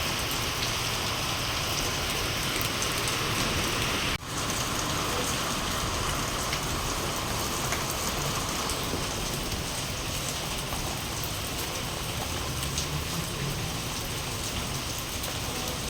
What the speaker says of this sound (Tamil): மழை விடாம கும்மி அடிக்குது